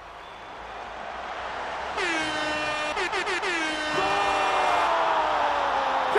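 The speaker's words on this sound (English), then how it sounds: "Gonna get some air horn in there." A loud, blaring air horn sounds for several seconds, briefly stuttering in short rapid blasts before holding again, over a steady background rumble.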